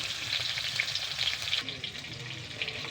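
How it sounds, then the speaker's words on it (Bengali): Pangas fish frying in oil in a covered pan, a continuous bright sizzle and crackle with small spattering pops, steady throughout and slightly muffled toward the end. "আমি এখন মাছটা ভাজতে বসিয়ে দিয়েছি। তো এটা আমি ঢেকে ভাজবো"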